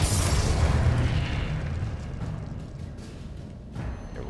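A Confringo fire spell in Hogwarts Legacy bursts with a deep, loud boom at the start, then rumbles and fades over several seconds, ending with a smaller pop near the close.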